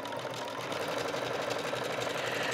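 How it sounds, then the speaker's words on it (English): A sewing machine running a wide 7 mm stitch through fabric with the presser foot lowered: a continuous, even mechanical whir held at steady loudness, with no voices. "I just lower my presser foot and stitch away"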